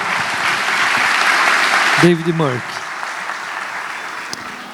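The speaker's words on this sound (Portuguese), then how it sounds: "Dê uma salva de palmas para Jesus pela vida" Church congregation at a family seminar applauds loudly for about two seconds, then the clapping thins and fades as someone briefly speaks over the tail.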